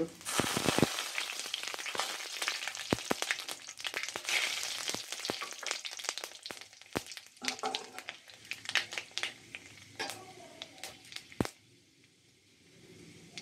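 Panch phoron five-spice with a bay leaf frying in hot oil for spiced baby potatoes, giving a dense close crackle of sharp pops that thins out and fades near the end.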